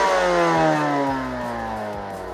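A Moto Guzzi V7 Black Street with a Conti exhaust and a 19 mm carburettor revs, its V-twin rising in pitch, then dropping back to a loud, steady throb, close up with no talking.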